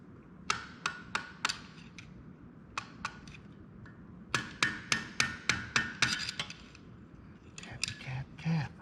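A hammer gently taps a big-bore valve stem in sharp, crisp knocks, first in sparse clusters and then in a rapid run of evenly spaced taps, close and clear over a quiet workshop background.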